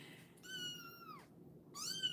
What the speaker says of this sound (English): You're going to hear him meow a little bit.